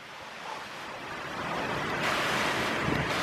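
Ocean surf rolls in at a Maldives break, a steady broadband rush of breaking waves that swells louder partway through, with wind buffeting the microphone and no talking.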